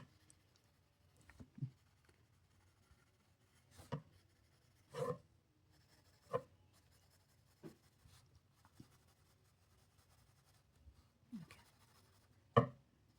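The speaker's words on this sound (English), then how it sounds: "So with this 2B pencil only, I'm trying to get two shades, one darker and one lighter." A 2B graphite pencil shades on paper in soft, scratchy strokes, coming in short separate bursts with quiet pauses between them. The sound is close and faint, with no talking.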